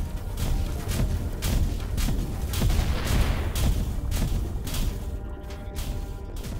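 Starship cannon or plasma fire in the space game Avorion: a steady run of sharp, evenly spaced shots over a low rumbling hum, loud and continuous.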